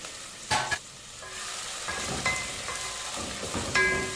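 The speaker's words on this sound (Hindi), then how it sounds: "अब मैं इसमें 1 टेबल स्पून अदरक लहसुन का पेस्ट डाल दूँगी" Ginger garlic paste sizzling with softened onions in a pan, a steady frying hiss with a few louder stirring scrapes and clatters, close and alone.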